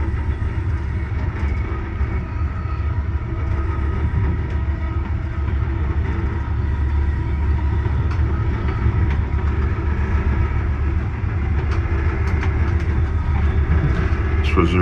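Amtrak Pennsylvanian train 42 passing on a sharp curve east of Lancaster, Pennsylvania: a continuous rumble of rolling cars with faint wheel clatter and scattered squeals, steady and fairly close for the whole stretch.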